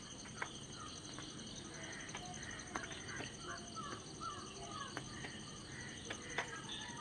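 In the early morning, crows caw in scattered calls from a distance over a constant hum of crickets and insects. The calls are faint and open-air.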